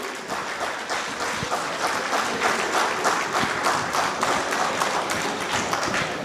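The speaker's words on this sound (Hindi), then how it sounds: "इनके लिए एक ज़बरदस्त तालियां हो" Audience at a lovebird show event in Pakistan bursts into sustained, dense clapping, loud and close, with a steady rattle of hands throughout and no speech on top.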